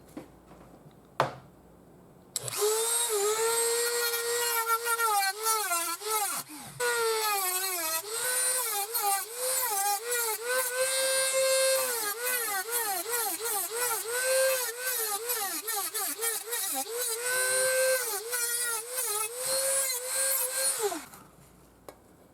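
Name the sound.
Dremel rotary tool cutting a hole in a glass jar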